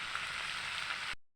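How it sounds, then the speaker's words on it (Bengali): Fried potatoes tip into a pan of fish curry, setting off a steady, close hiss of sizzling oil that runs unbroken for about a second before stopping abruptly. "এবার আলু ভেজে রেখেছি সেটা দিয়ে দেবো"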